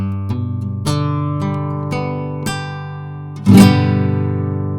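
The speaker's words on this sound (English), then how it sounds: "And I strum all 6 strings." A beginner's guitar chord fretted with three fingers and strummed across all six strings, heard as a series of clear strums that ring out and sustain, the last one harder and louder, with no talking.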